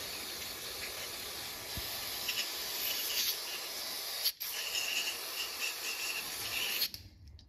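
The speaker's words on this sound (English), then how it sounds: "you're just going to spray this whole thing down" Cleaner sprays onto the mass air flow sensor of a Chevrolet Tahoe 5.3, a steady close hissing spray lasting several seconds with one brief pause before it stops.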